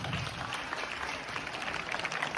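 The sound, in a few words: applause for Madhu ma'am from the whole school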